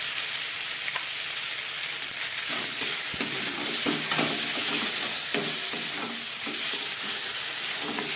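Chopped snake gourd and prawns with coconut sizzle steadily in hot oil in a home kitchen, a loud continuous frying hiss with faint stirring scrapes and no voices.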